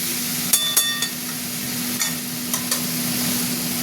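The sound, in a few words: tomato and spices frying and stirred for fish curry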